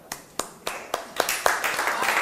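Students clap in a classroom, starting as a few separate sharp claps and quickly building into denser, overlapping applause from several hands.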